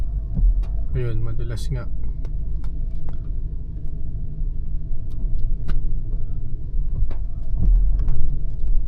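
A Ford Raptor on Nitto Trail Grappler tires rolls downhill in first gear under engine braking on a mountain trail loop, giving a steady close engine rumble and drone throughout, with people talking over it.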